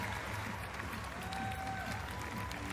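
Crowd applause at the 2025 WNBA Draft, a steady wash of clapping and light cheering in a large hall, with a commentator's voice faintly under it.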